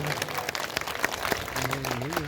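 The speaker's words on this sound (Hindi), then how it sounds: "तो एक बार जोरदार तालियां इन हमारे योद्धाओं के लिए बजा के इनका हौसला बढ़ाया।" An audience at a large public rally applauds with dense clapping throughout a short stretch, while someone speaks over the noise.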